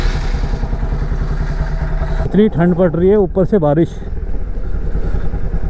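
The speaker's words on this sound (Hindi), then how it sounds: "थोड़ी बाइक वार्म अप कर ली जाए।" A Bajaj Pulsar NS200 motorcycle engine idles as it warms up on a cold, rainy day, a steady rumble running throughout while someone speaks briefly over it.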